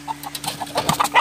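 Hens in a nesting area on a farm, clucking in a quick series of short, close calls with light rustling, loud and clear with no talk.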